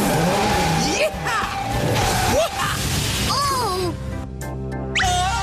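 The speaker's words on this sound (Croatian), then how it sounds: "Gledaj ovo, Rory, stari moj, kotači s poluokretom." Tires screech as a cartoon race car skids through a half-spin turn, with a loud steady engine roar, whooshing effects and a character's voice talking over it.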